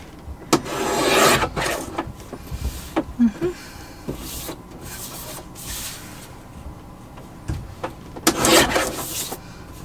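An edge is trimmed off a piece, with short rough rubbing and scraping strokes in irregular bursts, close and moderately loud, with quiet gaps between.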